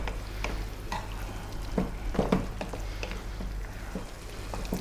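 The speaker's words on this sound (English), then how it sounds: "give it a stir every now and then" Spiced beef sizzles in a pot while a spoon stirs it, giving a steady frying hiss with several sharp scraping knocks clustered near the middle, close and moderately loud with no talking.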